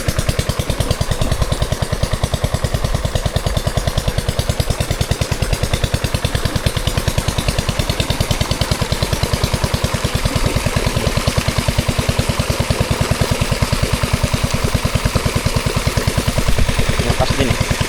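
An engine-driven water pump running, a loud, close, rapid mechanical chugging with a steady clattering pulse that holds unchanged throughout.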